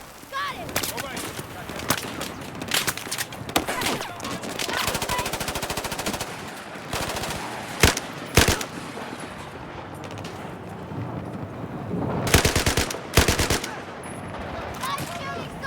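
Automatic weapon fire in the Battlefield 4 campaign's final Suez mission, with repeated rapid bursts and single shots crackling through a dense battlefield mix, growing loudest in a heavy volley near the end, with voices scattered among the shooting.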